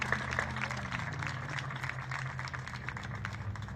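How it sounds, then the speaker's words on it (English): A crowd at a high school stadium dedication applauds with a faint, distant wash of clapping beneath a low, steady hum, fairly even in level throughout. "Let's give Shane a big round of applause."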